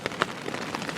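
Rain falls on an umbrella and tarp shelter during a backpacking trip, a close, steady patter of drops with a few sharper taps, no voices.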